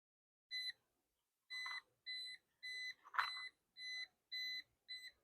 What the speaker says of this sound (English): Hope you can pick up that beeping with the mic.